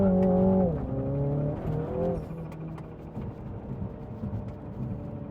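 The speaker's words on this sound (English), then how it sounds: "you can hear the turbo flutter really nice as well" A MINI John Cooper Works GP3 with a carbon air intake revs hard, its engine note rising and falling in clear tones, then settles into a rougher whirring turbo flutter as the revs drop.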